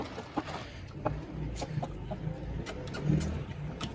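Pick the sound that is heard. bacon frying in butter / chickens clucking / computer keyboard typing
chickens clucking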